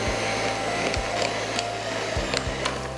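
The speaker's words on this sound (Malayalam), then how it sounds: "ഇത് ലോ സ്പീഡിലിട്ടിട്ടൊന്ന് ബീറ്റ് ചെയ്യാം." Electric mixer beating carrot cake batter at low speed, a steady close motor whir with a few brief clicks and shifts as the beaters move through the mix.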